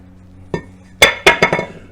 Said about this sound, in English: And we can pull our rotor off.